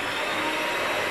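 An electric hand mixer running at low speed through sponge cake batter, a steady close whirring drone with no breaks and no voices.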